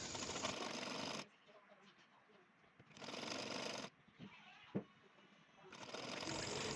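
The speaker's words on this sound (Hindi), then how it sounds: "इस तरीके से सिलाई लगा लेंगे दोनों पट्टियों को नीचे की तरफ से" Sewing machine stitching along the lower edge of two folded fabric strips for a baby top, loud bursts of motor whir separated by quieter pauses with soft handling noises.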